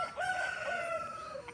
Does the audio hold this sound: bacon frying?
no